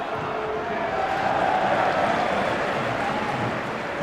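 Steady broadband murmur of a big football crowd inside Pittodrie stadium, Aberdeen, during an SPL match between Aberdeen and Dundee United, a continuous roar with no standout cheers.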